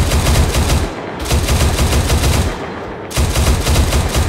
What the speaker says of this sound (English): Oh, because the commander's shooting his M2.